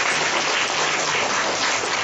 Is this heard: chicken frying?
no